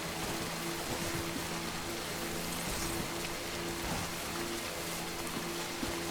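A torrential in-game downpour from Death Stranding keeps up a constant, wash of rain noise, unbroken and even from start to finish, over a soft sustained musical drone.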